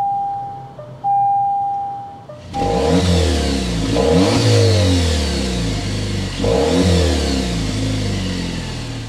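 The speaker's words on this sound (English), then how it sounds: "start it up so you can hear that exhaust note" A soft electronic chime rings, then a 2024 Dodge Hornet GT Plus engine fires up and revs hard several times, the throaty exhaust rising and falling close by.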